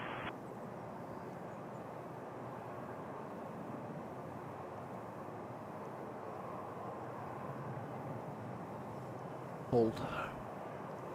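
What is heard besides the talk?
Boeing 777-200LR airliner departing Toronto runway 05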